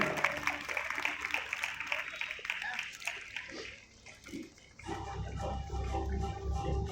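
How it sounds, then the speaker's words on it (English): A round of applause rolls through a school award ceremony at Christu Jyoti School, a dense, fairly distant wash of clapping that briefly thins midway before picking back up and continuing steadily. "let us congratulate and welcome her with a round of applause"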